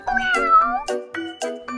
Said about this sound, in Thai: เฟลซ่าไม่ใช่เด็กน้อยเฟลซ่าเป็นแมวนะ